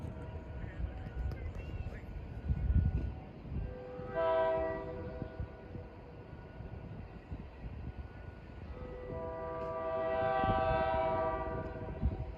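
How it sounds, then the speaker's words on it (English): A multi-chime K3L-style train horn sounds near Steamtown in Scranton, Pennsylvania, with a short blast followed by a longer, sustained one, moderately distant over rumbling outdoor background noise. "Nice horn, sounds like a K3L."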